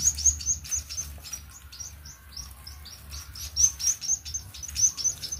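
Busy, high-pitched chirping from several baby sparrows, rapid and overlapping, fairly close, with a low background hum underneath.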